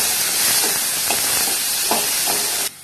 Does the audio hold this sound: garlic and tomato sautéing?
yes